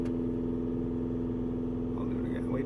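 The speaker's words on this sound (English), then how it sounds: "Now if I rev up the engine, you hear it revving up." A car engine drones steadily at close range, its low hum holding then rising slightly in pitch near the end as it revs.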